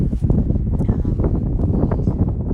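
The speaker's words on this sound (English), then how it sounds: "just standing out here, feeling the wind" Wind blows outdoors, buffeting the microphone in a loud, low, gusty rumble that runs without a break.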